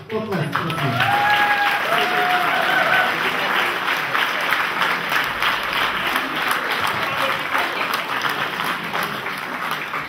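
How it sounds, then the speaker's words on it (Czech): A theatre audience claps warmly and steadily for about ten seconds after a performance of a play. A few voices and a brief whistle-like call rise over the applause early on. "Potlesk, prosím."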